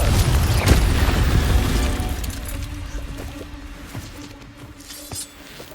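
A loud magical fire-blast explosion from the Confringo spell in the video game Hogwarts Legacy bursts at once, then decays into rumbling debris and crackling that fades over several seconds.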